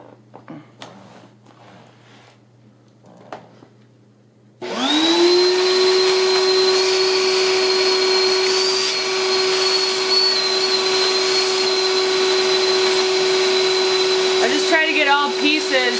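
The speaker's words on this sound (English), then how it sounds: "So I'm just gonna go ahead and start vacuuming." Vacuum cleaner sucking hair and debris off Roomba 800 series rollers starts abruptly after a few quiet seconds of handling, then holds a loud, steady high whine with a strong tone to the end.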